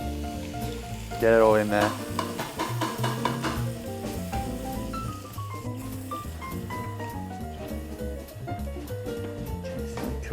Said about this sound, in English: you're going to need to add the rest of the sauce